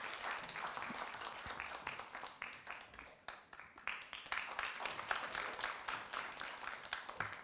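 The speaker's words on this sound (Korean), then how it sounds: "장로님 나오실 때 우리 박수로 맞이해 주시면 고맙겠습니다." A church seminar audience claps steadily to welcome an elder to the front, many hands clapping in a fairly quiet, dense patter that swells and dips throughout, heard from a slight distance with no voices over it.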